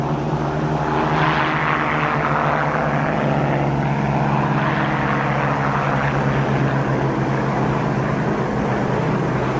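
Japanese propeller-driven attack aircraft drone overhead in a steady, loud engine roar with throbbing low harmonics, holding at a continuous level throughout with no talk.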